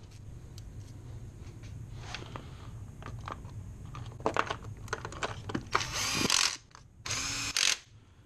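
A hand ratchet tightens bolts on the engine of a 2007-2013 R56 MINI Cooper non-S during head gasket and timing chain work, with quick close clicking pawl runs followed by two louder bursts of ratcheting near the end.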